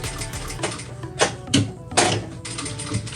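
A domestic sewing machine stitches over the metal teeth of a zipper while a cross-body bag is made, giving short mechanical bursts of whirring and clicking with louder thumps where the needle hits the teeth, close by.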